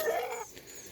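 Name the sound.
rooster clucking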